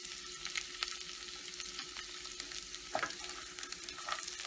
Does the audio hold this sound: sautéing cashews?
yes